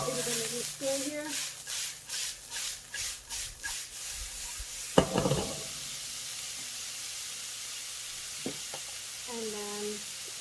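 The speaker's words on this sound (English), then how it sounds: "And then we'll add the cabbage here. Give it a little stir here." Cabbage stirred in a hot pan for spring roll filling, a quiet sizzle with a run of rhythmic scraping strokes followed by a sharper clatter. Softer sizzling continues after that, and a voice speaks briefly near the end.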